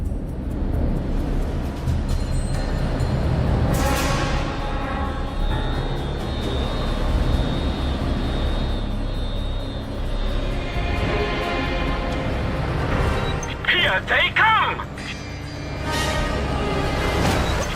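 A helicopter closes in during the Just Cause 2 video game, a steady loud engine roar layered with gunfire, explosions and game effects, while a voice calls out briefly.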